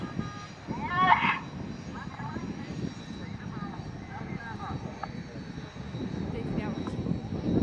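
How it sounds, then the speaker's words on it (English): Red Arrows jets at Luchtmachtdagen 2014 rumble in a steady, fairly distant roar as they roll into a display takeoff, with radio chatter and a voice heard over the engine noise. "This will be our display takeoff."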